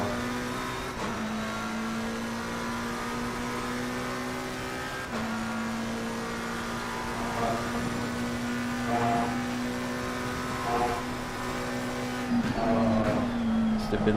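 A McLaren race car in a racing simulator, its engine droning at a steady high pitch with shifts in revs, brief drops and rising acceleration near the end, loud and close with no talk.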